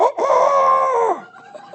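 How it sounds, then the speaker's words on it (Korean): A rooster crows once, loud and close, with a sharp opening note, a sustained harmonic middle and a falling end, followed by faint low sounds. "닭 우는 소리가 들렸겠느냐?"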